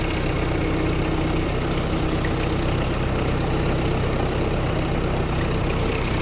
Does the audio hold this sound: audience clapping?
no